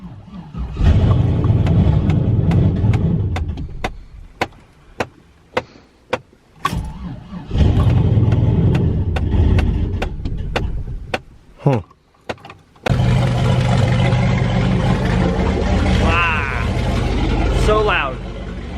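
A turbo LS engine in a GMC Envoy cranks repeatedly in short bursts, then catches and settles into a loud, rough, continuous run close by, with a voice talking over it.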